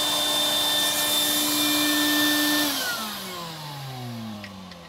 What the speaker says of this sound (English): So here we go with a little noise just to demonstrate. So I got the little crevice tool on there.